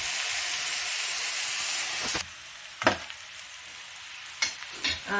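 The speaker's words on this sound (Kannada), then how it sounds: "ಈಗ ಆ ಎಣ್ಣೆ ನಾವು ಹಾಕಿರ್ತೀವ, ಎಣ್ಣೆ ಎಲ್ಲ ಕಾಣಿಸ್ಬೇಕು, ಆ ಥರ ಫ್ರೈ ಮಾಡಬೇಕು." Bitter gourd stir-frying in oil in a pan for a Kannada dry curry, a steady loud sizzle that drops to a quieter hiss midway, with a few scraping stirs near the end.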